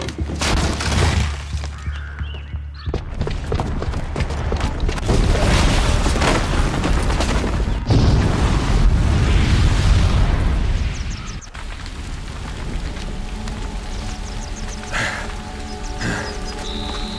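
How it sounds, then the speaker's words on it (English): A bomb blast in the video game Horizon Zero Dawn, set off by a booby trap: a loud, sustained roar of booming, crashing and crumbling debris that peaks then eases into rumbling and scattered clatter, with no voices. "the booby trap on the bomb downstairs is gonna get set off"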